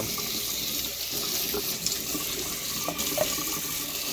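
Hot tap water runs steadily from a faucet into a kitchen sink over pasta, a soft continuous splashing stream with a few small clinks and no speech.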